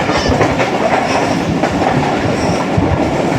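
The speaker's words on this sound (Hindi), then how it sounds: "ट्रेन हमारी शहजादपुर रेलवे स्टेशन को पास थ्रो करने लगी" The Pak Business Express train runs on its tracks through Shahzadpur station on the Rohri to Karachi route, a loud steady rumble with rhythmic clickety-clack of wheels over rail joints, close and continuous with no talk.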